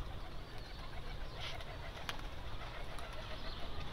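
Pigeons coo softly in their pen beneath a steady low rumbling background, with faint calls and a few light flutters over about four seconds.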